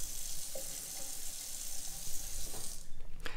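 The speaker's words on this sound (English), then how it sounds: "it is a Sense faucet" Water from a Sense kitchen faucet runs steadily into a sink, a continuous close hiss and splash that cuts off near the end.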